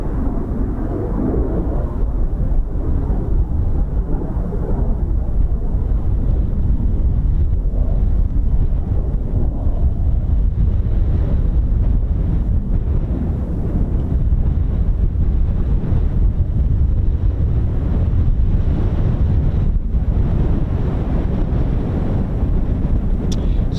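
Strong wind buffets the microphone at an RAF air weapons range, a constant heavy rumbling roar that lasts the whole stretch and masks everything else, with no voices.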